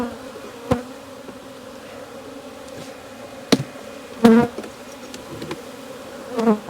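Honey bees buzzing inside an opened hive full of larvae in Jacksonville, Florida, a steady low drone close by, broken by a few sharp knocks and clicks from handling the frames.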